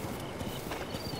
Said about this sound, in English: here's my ancient horse